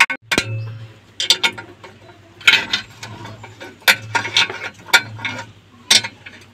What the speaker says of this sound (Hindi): तो देखिए दोस्तों हमने सारे नट बोल्ट खोल लिए हैं अपने नल के